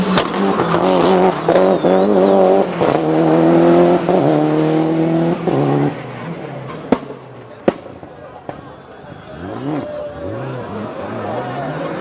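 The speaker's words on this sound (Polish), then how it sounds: "Celica, a w niej za kierownicą Robert Herba oraz pilot Artur Skorupa." A Toyota Celica rally car races through a stage of the 1996 Rally of Poland, its engine roaring loudly and revving through gear changes before pulling away, followed by sharp pops and fainter engine noise.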